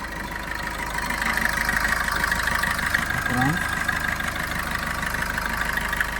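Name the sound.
Maruti Suzuki Vitara Brezza ZDI+ engine idling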